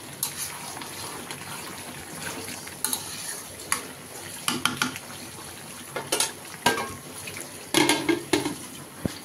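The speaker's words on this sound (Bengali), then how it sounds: "এখন কড়াইয়ের মধ্যে কষাই নিতেছে।" Meat is sautéed for biryani in a wok, with steady sizzling and repeated scraping and clanking of a spatula against the pan over roughly nine seconds.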